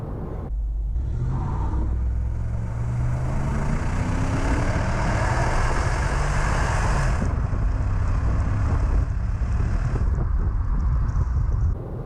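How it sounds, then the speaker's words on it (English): A 2008 Cadillac DTS with the Northstar engine accelerating hard, a loud sustained rumble rising in pitch through the gears with brief shift dips, heard from inside the car without talk. "the Northstar really is an impressive engine"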